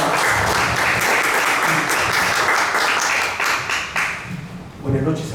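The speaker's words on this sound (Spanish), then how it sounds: "Recibamos con fuertes aplausos a Gabriel García Higueras" Loud applause from an audience at an evening tribute event, dense clapping that continues steadily before thinning and fading near the end, with a voice briefly emerging underneath.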